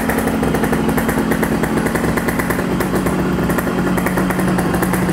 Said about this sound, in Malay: kita belanja sikit bunyi motosikal ni sekejap saja.